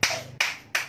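Three sharp, close hand claps in a quick, evenly spaced scout-style clapping rhythm (tepuk pramuka), each snapping out then fading briefly.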